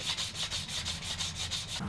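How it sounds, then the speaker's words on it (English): Light hand sanding of a dyed wooden tablet stand, about ten quick rhythmic back-and-forth rasping strokes, close and fairly quiet, with no talking. "then give it a light sanding"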